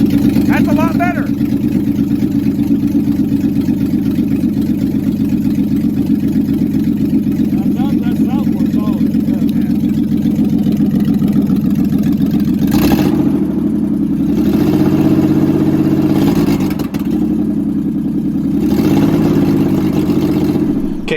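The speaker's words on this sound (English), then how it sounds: "We went from a motor that just turned over to now a motor that idles" A rebuilt 3.4 engine idles steadily in a 1988 Toyota pickup after a swap from the 3.0, a close, loud low rumble with short rises in revs near the end while a person talks over it.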